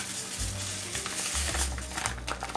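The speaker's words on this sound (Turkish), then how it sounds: "Bir paketi döküyorum" Dry mastic pudding mix poured from a packet into a pot, a soft continuous rustling hiss with low rumbling bursts, steady and fairly close, no talking.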